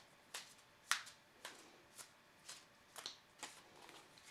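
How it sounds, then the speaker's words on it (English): A deck of playing cards is shuffled during a card reading on a front porch, with about nine crisp, separate riffles and snaps spaced roughly half a second apart, close and quiet. "I think I'm going to give them one more shuffle"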